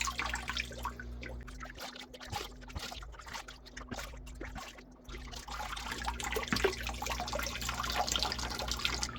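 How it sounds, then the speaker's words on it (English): Water pours from a marmalade jar into an aquarium filter, an uneven trickle and splash that pauses midway and resumes, close by over a low electrical hum. "before you plug in the filter and turn it on, you do want to pre-fill it with water"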